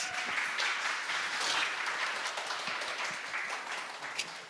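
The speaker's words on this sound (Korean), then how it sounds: "박수 할까요?" Studio audience applause on a Korean Christian debate-style competition show in New York, a dense steady wash of many hands clapping for several seconds at moderate level, fading slightly toward the end, with no talking.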